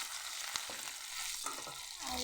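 Onions sizzle in a wok as they brown, a close, steady crackling fry with a few stirring scrapes and clinks.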